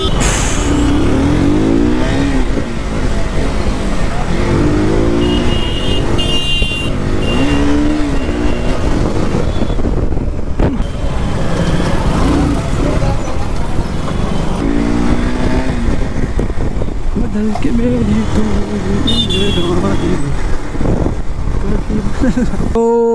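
Two KTM Duke 250 motorcycles rumble and rev loudly and continuously nearby, engine pitch rising and falling throughout with no break.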